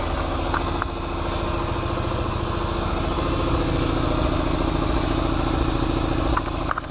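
A 1975 Honda CT90 motorcycle engine idling steadily after a cold first-kick start outdoors, a loud, even, close putter with rapid regular firing pulses and a faint rattle, continuing alone throughout.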